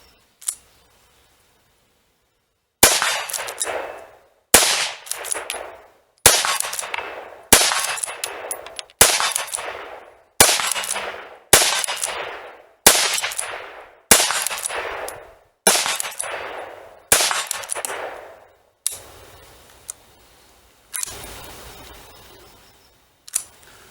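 Winchester 9422M .22 magnum lever-action rifle firing about eleven loud, sharp shots, spaced roughly a second and a half apart with ringing decay after each, following a short quiet start.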